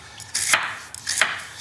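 White cabbage is cut into strips with a knife on a board for a cabbage and peanut pan dish, two crisp chops about two-thirds of a second apart, close and clear.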